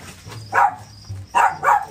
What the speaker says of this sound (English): He's barking at the music.